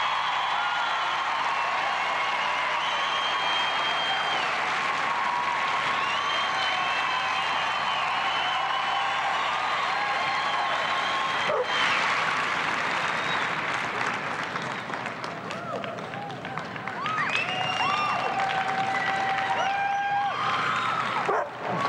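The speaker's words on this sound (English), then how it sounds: "Listen to the crowd." A large crowd applauding steadily in the best-in-show ring at the 1996 Westminster Kennel Club Dog Show, Herding Group: loud continuous clapping and cheering that fills the whole stretch, with a faint voice under it.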